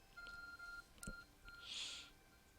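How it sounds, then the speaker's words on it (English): An ARC phone beeping in Pokémon Legends: Arceus, a quiet electronic tone sounding in short pulses, a brief click in the middle, then a soft shimmering chime, with no speech. "Your ARC phone is beeping."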